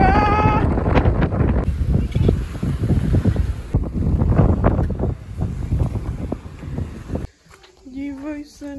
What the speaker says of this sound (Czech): A strašně fouká!